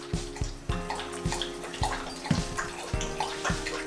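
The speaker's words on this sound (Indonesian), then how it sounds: "Masukkan air panas." Hot water poured into a bowl for a cassava coconut milk cake batter, a steady splashing trickle with repeated sharp plops and drips, close and moderately loud, no talking.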